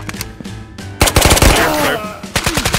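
Shotgun blasts from a 12-gauge in the VR shooter Ghosts of Tabor, with a few sharp booms in quick succession followed by a dense burst of close, loud gunfire and faint game ambience.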